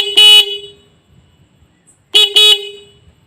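A Pulsar motorcycle horn after tuning, loud and sharp, blaring in two pairs of short honks separated by a quiet pause.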